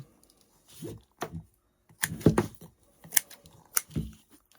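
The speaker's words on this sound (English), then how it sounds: "Scissors." Scissors snip and trim a scrap-wood 4x4 decor piece on an old workbench, giving a series of short, close, crisp cuts in irregular bursts, with no talking.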